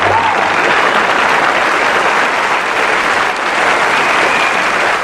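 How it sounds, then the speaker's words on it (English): Steady, dense applause from a crowd, loud and continuous throughout a few seconds with no talk over it. "We'll applaud them."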